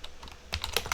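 Quick keystrokes on a computer keyboard as a commit message is typed, a close rapid run of clicks with no talking.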